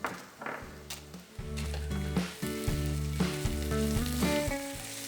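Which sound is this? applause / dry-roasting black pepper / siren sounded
dry-roasting black pepper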